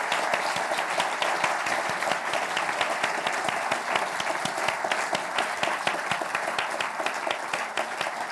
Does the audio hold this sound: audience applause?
yes